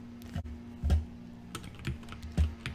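A few sharp, isolated computer keyboard key presses, spaced about half a second apart, adjust the engine mixture in an AirX2020 flight simulator over a steady low engine hum.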